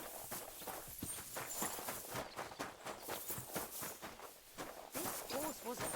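A horse's hooves clip-clop in a steady, quick rhythm in Kingdom Come Deliverance 2, faint and at a modest distance.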